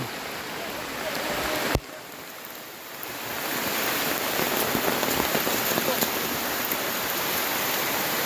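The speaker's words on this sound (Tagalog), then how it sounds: "Nabot po kami ng ulan" Steady rain falls outdoors during field surveying on Jomalig island, Quezon, a dense hiss of drops on surfaces with one sharp knock near the start and faint voices beneath.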